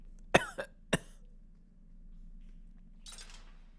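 A person coughs three times in quick succession, sharp and close, then clears their throat with a rougher burst a couple of seconds later over a quiet room hum.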